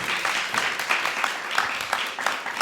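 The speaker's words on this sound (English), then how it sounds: "Can I get a round of applause again for Vanessa and Jessica?" An audience applauding, a dense patter of many hands clapping steadily for a couple of seconds, with a voice faintly under the clapping.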